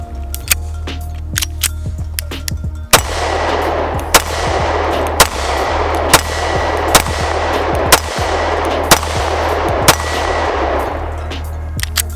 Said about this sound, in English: Now this gun is obviously not made for shooting out to distances like this.